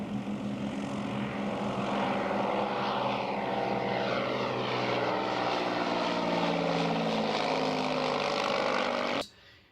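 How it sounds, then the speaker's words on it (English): A Cessna 310 twin-engine propeller airplane with its nose gear hanging makes a low overfly of the runway at EAA AirVenture Oshkosh, a steady loud droning roar with a shifting pitch as it passes, cut off abruptly at the end. "That video that you saw was an overfly of the runway"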